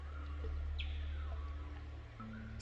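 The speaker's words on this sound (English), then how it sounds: "listen to the birds" A few faint bird chirps and short whistles over a low steady hum, scattered and distant.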